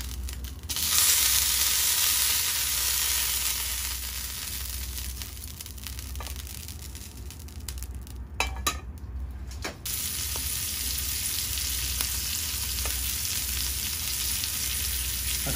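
Scallops pan-frying in hot oil without releasing water, giving a steady, close, loud sizzle that holds for the whole stretch, dipping briefly in the middle before resuming at full strength.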